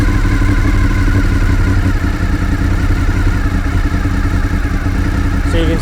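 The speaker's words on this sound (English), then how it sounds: "It's idling at just over 1000 RPM" A Honda VFR800Fi motorcycle engine idling at just over 1000 RPM, a loud, steady, close rumble with an even mechanical patter, and a voice speaking over it.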